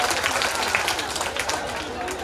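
An audience claps for a short one-act play at a school stage event, giving a dense, steady patter of applause mixed with crowd noise that holds throughout.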